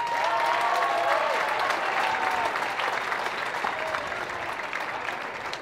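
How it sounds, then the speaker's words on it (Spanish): Tennis crowd at the San Luis Potosí Open Challenger 2013 final gives a sustained, dense round of applause for a player's introduction, steady and full throughout with some cheering mixed in. "Vamos a recibir con una gran ovación al señor Alessio Di Mauro de Italia."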